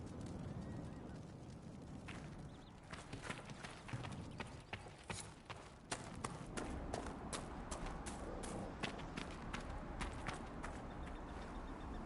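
Steady clip-clop of a horse's hooves at a walking pace in a video game, a run of sharp knocks over a low, busy background rumble.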